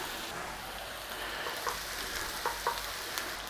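Garlic frying in butter with beef and mushrooms in a skillet, a steady close sizzle with a few soft pops and stirring clicks.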